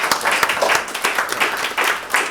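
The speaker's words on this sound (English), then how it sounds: "an applause to appreciate them," An audience at an IMF World Economic Outlook event applauds the speakers, with moderately loud, continuous clapping that rises and falls in waves for a couple of seconds.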